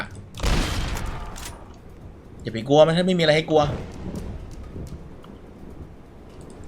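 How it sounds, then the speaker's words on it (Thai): A lightning strike and thunder in the Roblox game Dead Rails hit as a loud, brief rumbling crack near the start, followed by someone talking over the fading game sound. "โอ้ยฟ้าผ่า"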